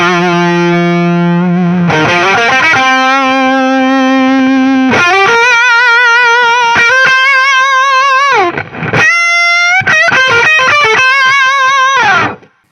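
A distorted electric guitar through a Fender Duel Pugilist distortion pedal in parallel mode plays sustained chords and a riff, thick and saturated, ending in a quick high run before cutting off.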